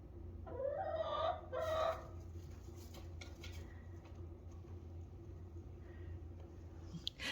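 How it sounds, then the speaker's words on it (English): Chickens cluck and squawk as they are brought into a new coop built from a converted barn stall, a few sharp calls up front fading to quieter shuffling and scattered clucks. "So we're bringing in the chickens."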